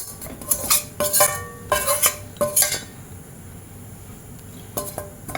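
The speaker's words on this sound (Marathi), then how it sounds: "आता आपण ह्याच कढईमध्ये ह्याच तुपावरती पन्नास ग्रॅम खारीक पावडर भाजून घेणार आहोत" Dry date powder roasting in ghee in a kadhai, heard as a run of loud metallic scrapes and clinks of a spoon against the pan in quick bursts, then a quieter pause and a few more scrapes.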